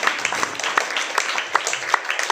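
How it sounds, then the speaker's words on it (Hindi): Loud applause and clapping from the audience at a nighttime Hindu jagran devotional gathering, a steady dense patter with sharper claps rising through it and some voices mixed in. "उसी के लिए एक बार ताली बजा दो बहुत जोर से।"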